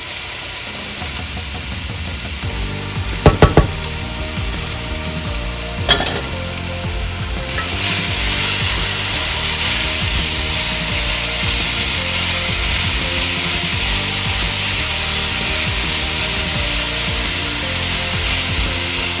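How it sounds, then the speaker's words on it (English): About 1.5 pounds of ground beef fries and sizzles steadily in a pan, broken up with a few sharp utensil knocks against the metal, the crackle growing louder and fuller midway and continuing alone without talk. "break up the meat and cook it until it's no longer pink"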